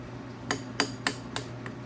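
Light hammer taps on a key during a cam chain install on a Kawasaki KLX110L motorcycle: four or five sharp metallic clinks about a third of a second apart, close and clear over a low steady hum.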